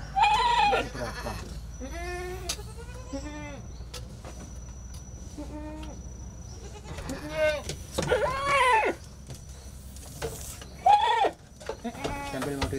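A goat bleats several times in a village setting in Banyuwangi near dusk, with wavering, harmonic calls recurring across the clip among background noise and people talking nearby.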